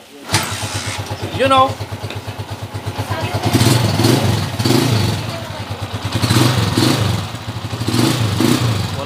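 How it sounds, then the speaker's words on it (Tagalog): A Honda TMX155 motorcycle engine, just overhauled, kicks into life and settles into a steady, pulsing idle with mild clatter. It is close and loud, with revs swelling and easing in waves, and a few spoken words come in briefly near the start. "nabuo na po natin yung makina ni Kuya at papandarin na po natin"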